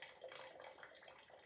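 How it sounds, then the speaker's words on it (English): Wine is poured slowly from a bottle and trickles into a glass with a faint, steady, gurgling flow, heard close and alone. "And you can hear that trickling into the glass."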